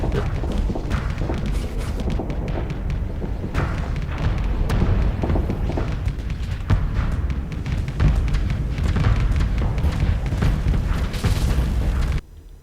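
Hurricane missile launcher in the Starsector space game firing salvos that burst into dense, continuous rumbling booms and thuds, loud and layered over a steady low roar until an abrupt drop at the end.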